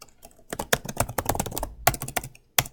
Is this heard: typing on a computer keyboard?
yes